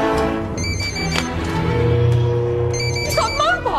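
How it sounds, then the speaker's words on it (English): A telephone rings in a Doctor Who Christmas special, with repeated bright electronic trills in short bursts over music and background sound, fairly loud. "That's a phone."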